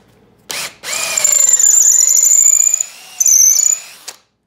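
A power drill with a larger bit bores into wood for handles for wood turning tools, whining loud and close in two sustained bursts with a slight pitch dip as it bites.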